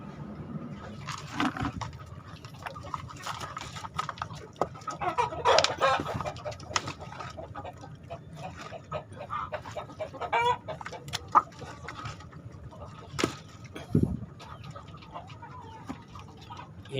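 Free-range village hens kept as a laying flock cluck and call repeatedly at close range, with scattered bird sounds over a steady low background and no talking.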